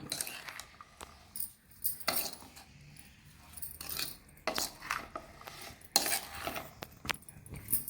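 Bitter gourd chutney ingredients with turmeric being mixed in a bowl, with scattered clinks and scrapes of a utensil against the dish, fairly quiet and close, coming in irregular bursts.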